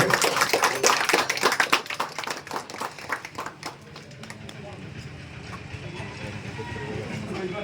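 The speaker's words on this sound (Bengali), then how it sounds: "আর একটু জোরে হাততালি" An audience at a cake cutting ceremony during a launch event claps in a quick, uneven burst that fades out after a few seconds, leaving low background murmur.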